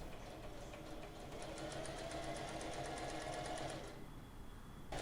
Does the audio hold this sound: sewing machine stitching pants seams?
yes